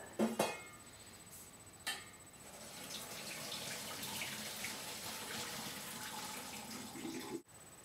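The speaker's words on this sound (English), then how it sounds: "Okay, drain in the pasta." Pasta water is poured off into a kitchen sink, a soft continuous splashing rush after a couple of clanks, fairly quiet and close, ending abruptly.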